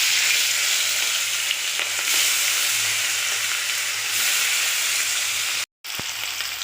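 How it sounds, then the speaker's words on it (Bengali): Salted, turmeric-rubbed hilsa fish pieces sizzle and spit in hot mustard oil, a loud, steady broadband frying hiss that runs close and continuous, broken by one brief cut near the end before resuming. "এবার আমি নুন হলুদ মাখানো ইলিশ মাছগুলো দিয়ে দেবো।"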